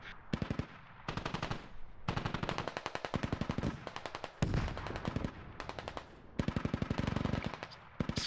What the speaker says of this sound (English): One, two, and three's MTLB should be firing